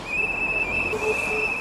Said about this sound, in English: He's got his whistle, he's blowing it loud.